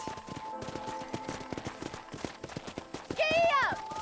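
A horse gallops in the Red Dead Redemption video game, its hooves clip-clopping in a quick steady rhythm under game music and talk, ending with a loud neigh.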